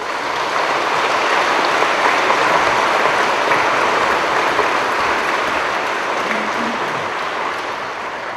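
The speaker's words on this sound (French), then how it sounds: "Voulez-vous, on va s'applaudir." Church congregation at a special French Mass applauding, a loud, sustained roar of many hands clapping in a large reverberant nave, fading slightly near the end.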